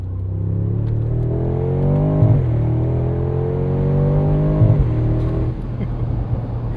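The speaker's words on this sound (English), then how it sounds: "Let's hear these side pipes." A 2025 Mercedes-AMG G63 with a 577 hp biturbo V8 revs through its side pipe exhaust, the loud, close engine note rising and falling twice in long sweeps before dropping back to a steady idle rumble.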